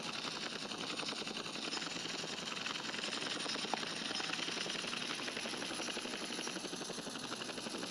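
Steady, loud rotor thrum of a helicopter in the video game GTA San Andreas with a constant engine whine, continuous throughout with no voices.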